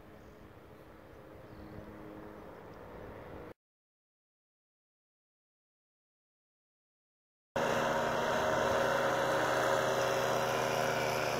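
Small engine of an ultralight flying trike, a tricycle-style craft, on its first solo flight, heard droning steadily as it passes overhead, cut by a stretch of silence and then returning louder and closer with strong wind noise.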